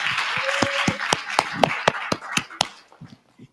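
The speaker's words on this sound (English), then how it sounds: "go ahead, you can give her a hand clap" Hand claps from a small audience during an interview, a handful of sharp, distinct claps in an uneven rhythm that thin out and fade, with a brief voice in the background.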